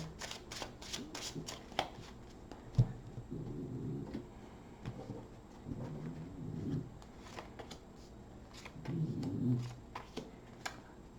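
Tarot cards are shuffled in several quick riffling bursts, with soft taps and handling noises between them in a quiet room.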